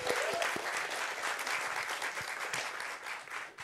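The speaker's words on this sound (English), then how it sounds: "And a round of applause for these guys" An audience at a keynote panel discussion claps steadily for a few seconds, a dense, even wash of hands with a faint voice near the start.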